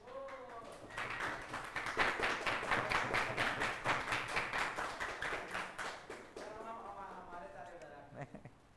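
A lecture audience in a descriptive statistics class claps hands in a quick, continuous burst of sharp, rhythmic claps lasting several seconds, with a voice talking before and after.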